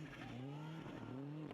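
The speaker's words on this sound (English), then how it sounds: "Listen to the inputs there on the throttle and the brake just to get the car to turn in." A rally car on a snowy special stage in the European Rally Championship, the engine rising and falling as the driver works throttle and brake to turn in, close and loud.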